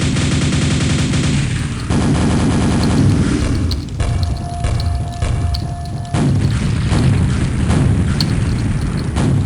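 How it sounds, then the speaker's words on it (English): Original Quake nail gun firing inside a Quake II mod, a loud rapid stream of metallic shots with booming impacts, nearly continuous with no talk. "nail gun."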